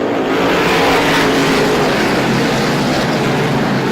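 Race cars roaring past at Star Speedway during an SBM 125 event, a loud, dense wall of engine noise sustained for the whole stretch with no voices.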